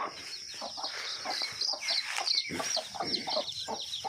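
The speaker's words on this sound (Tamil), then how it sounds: "கோழி எல்லாம் இங்கே இங்கேயே ஜாலியாக குஞ்சுகளுக்கு உணவு எடுத்து கொடுத்துக்கிட்டே இருக்குது" Hens with chicks clucking softly in short, repeated bursts on a farm amid a busy outdoor chorus of chirping birds, with a steady high insect-like hiss throughout.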